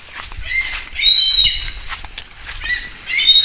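Wild bird calling outdoors, a few short high-pitched whistles repeating at intervals over a noisy, rustling background, fairly close.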